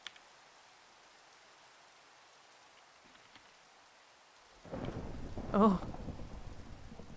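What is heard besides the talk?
thunderstorm with rain and thunder in Minecraft video game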